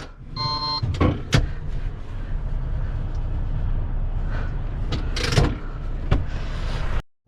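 A car pulls away at the start of a fuel-economy race between a truck with a 17-tonne load and trailer and another vehicle, a steady engine drone running throughout with several sharp clicks and knocks, close and loud.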